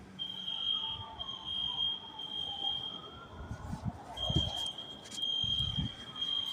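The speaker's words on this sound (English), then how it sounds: "how long has the alarm been going off?" An alarm sounds a continuous high-pitched electronic tone that drops out briefly and resumes, under distant talk and low background rumble.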